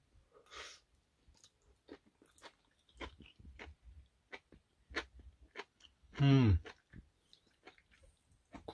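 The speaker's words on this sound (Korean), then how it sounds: "고사리가 오돌오돌 씹히는데요." Boiled bracken fern (gosari) is chewed close to the mic in a quiet room, giving soft, irregular wet crunching and mouth sounds with a few brief breaths and one louder burst.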